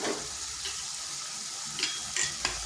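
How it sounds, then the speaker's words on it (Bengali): Ground coriander, cumin and chilli powder frying in a pan while being stirred, a constant close hiss of sizzling with a few light scraping ticks of the spoon. "এরপর ভালোভাবে মশলাটা কষে নিচ্ছি।"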